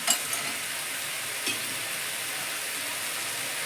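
Bori, small dried lentil dumplings, frying in a pan give a steady, dense hiss of oil that stays close and fairly loud. A couple of brief bumps come early, and no one speaks.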